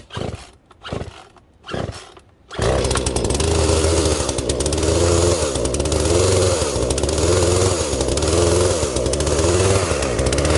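A Poulan Pro chainsaw on a cold day takes three quick pull-cord tugs, then catches and roars into a loud, steady, close-up run with slight rises and dips in its buzzing engine note.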